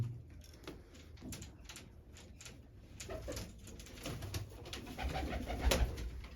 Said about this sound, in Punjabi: ਸਾਰੇ ਵੱਡੇ ਕਬੂਤਰ ਆ ਬਾਈ